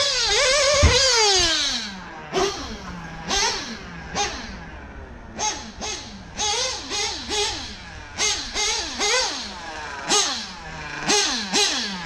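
Tekno RC car's electric motor whining through repeated sharp rising-and-falling revs and bursts, loud and close, a long wail at the start then a rapid series of throttle blips with no talk.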